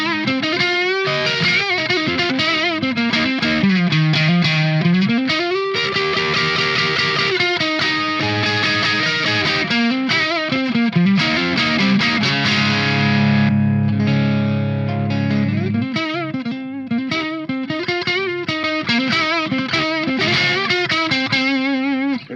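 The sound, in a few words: electric guitar, tube amp distorting with mid boost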